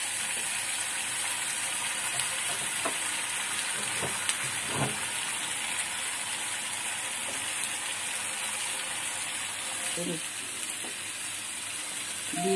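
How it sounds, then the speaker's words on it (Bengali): Turmeric powder being sautéed for a mustard hilsa curry, giving a faint, steady sizzle with a few soft scraping stirs scattered through it and a brief watery splash near the end. "হলুদের গুঁড়ো দুই টিস্পুন ভালো করে কষিয়ে নিচ্ছি"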